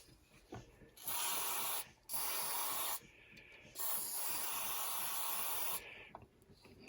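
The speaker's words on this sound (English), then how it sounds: "we'll spray with the oxide" Contact cleaner (oxide) sprayed onto an absorbent cloth while servicing a 1980 Zenith T/O 7000: three loud, close hissing bursts of varying length separated by brief pauses, no voices.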